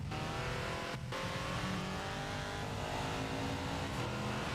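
LMP1 race cars at Hockenheimring make a constant, faint engine roar that runs the whole time, with a short dip near the start and no talking.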